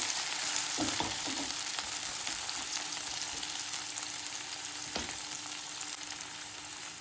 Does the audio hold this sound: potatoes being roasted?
yes